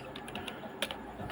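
Quick, light taps on a computer keyboard come in an uneven patter of clicks, close and soft, with one slightly louder keystroke near the end.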